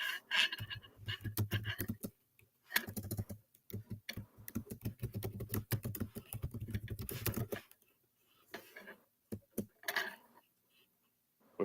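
Bursts of rapid keyboard clicking in quick runs separated by short pauses, close and fairly quiet.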